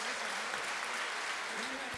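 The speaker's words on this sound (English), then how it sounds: "I request all the present members of audience to give a huge round of applause for our chief guest and guest of honor" An audience at a university sports summit valedictory ceremony claps in dense, continuous applause for the chief guest, with voices faintly mixed into the crowd noise.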